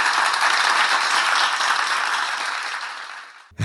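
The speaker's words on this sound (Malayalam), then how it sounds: "സാറിന് നല്ലൊരു കൈയടി കൊടുത്തേ" An indoor audience applauding a guest, giving a dense, steady wash of clapping that slowly fades over a few seconds before stopping abruptly with a brief knock at the end.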